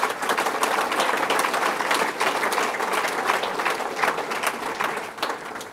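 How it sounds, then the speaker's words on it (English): An audience at a state governor's bass fishing challenge event claps in sustained, dense applause that holds steady for several seconds before easing off slightly at the end. "round of applause to all the Latimers"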